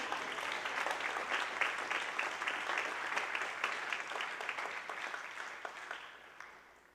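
A church congregation applauds during a Lord's Supper service, with dense, sustained clapping from many hands that fills the room and then gradually thins and fades toward the end, with no voices over it.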